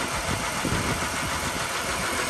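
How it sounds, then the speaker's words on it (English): A Ford BF XR6 with the Barra engine idling, suffering an idle fault and suspected faulty VVT cam solenoids, a steady close mechanical drone with a faint rapid ticking beneath, no voices. "the engine has some sort of like idle issue, so it's creeping up"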